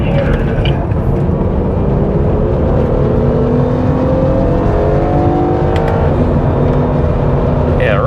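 A car circles a race track on Bridgestone Potenza tires, its engine droning steadily and loudly throughout with rising pitch sweeps as it accelerates through long sweeping bends, no talk over it.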